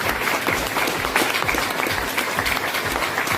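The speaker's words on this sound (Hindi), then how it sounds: "मैं एक बार जोरदार तालियां चाहूंगा उस महान मोदी के लिए।" An indoor audience at a doctors' product talk claps hard and continuously, a dense, loud wall of applause that holds steady for a few seconds.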